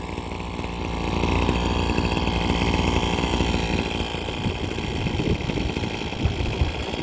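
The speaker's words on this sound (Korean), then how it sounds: "한 1분 정도 공회전을 시켜서 예열하고 사용을 하시면 됩니다" A two-stroke brush cutter engine idles steadily after starting, a loud, close, continuous buzzing drone that holds an even rhythm throughout with no talking.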